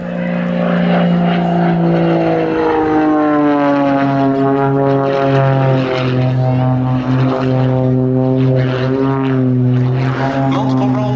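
Propeller aircraft flying aerobatics at the Duxford summer air show, with rolls and an inverted pull-through; a loud, sustained engine drone with shifting pitch fills the whole stretch, near and steady.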